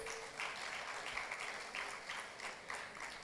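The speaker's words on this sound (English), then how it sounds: "A round of applause, please." Applause from a conference audience at a business law event, a steady spread of many hands clapping at moderate volume for about three seconds, with no talk over it.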